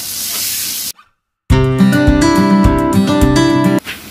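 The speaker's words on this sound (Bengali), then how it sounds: "এই আলুটা লাল লাল করে ভেজে নিলাম" Chandramukhi potatoes with turmeric and salt frying in hot oil give a loud, steady sizzling hiss that cuts off abruptly, followed by a loud, strongly tonal sound that is not frying.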